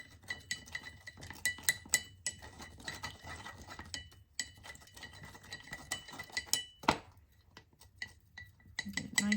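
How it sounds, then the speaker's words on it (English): A stick stirring a homemade salt wash mixture inside a jar gives irregular scraping clinks and taps against the glass, moderately close and fairly quiet, with brief pauses between bursts. "I'm just going to stir that up."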